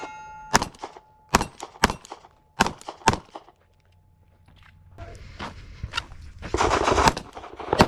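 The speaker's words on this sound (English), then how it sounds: "I'm shooting the metal" Sharp gunshots ring out at a metal target, several spaced single shots followed by a louder burst of rapid fire, with metallic clangs and a steady tone early on, shooting from a concealed-carry setup outdoors.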